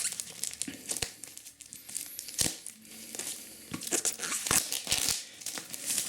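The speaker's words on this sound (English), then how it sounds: "Let's just unwrap this." A Warhammer 40K Imperial Agents codex book being unwrapped, with close, crisp crinkling and tearing of plastic shrink-wrap in irregular bursts and rustles throughout.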